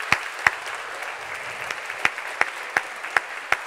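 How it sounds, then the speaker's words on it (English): Scattered audience clapping in a debating chamber at a Cambridge Union debate on #MeToo, a sparse steady patter with a few louder individual claps spaced evenly throughout, moderately close and without talk. "I approve of the clapping, but let's keep it brisk."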